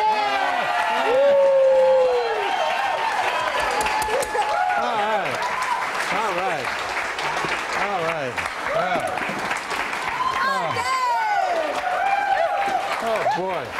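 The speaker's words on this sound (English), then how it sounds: "Let's have a nice round of applause for your stars tonight, Mr. John Crean and Barbara Venezia." A studio audience at a cooking show claps and cheers in a sustained, dense round of applause, with overlapping voices and whoops riding over the clapping throughout.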